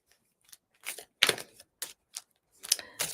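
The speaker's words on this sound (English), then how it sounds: "I shall shuffle and be quiet for a few seconds." Cards are shuffled in a run of crisp, quick riffling bursts, close and fairly quiet, with short pauses between them.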